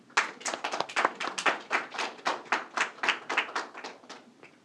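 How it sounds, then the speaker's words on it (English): A library audience applauds child cabinet members at a Kid Governor event, a quick wash of many hands clapping that swells, holds, then tapers away over several seconds, with no talking. "Let's give them a round of applause."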